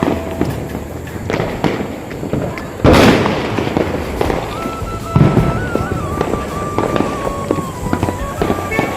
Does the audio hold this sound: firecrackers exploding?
yes